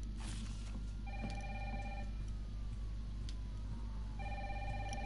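A telephone ringing in the survival horror game Resident Evil 3, two clear electronic ring bursts separated by a gap, set against a steady low ambient hum, no voices.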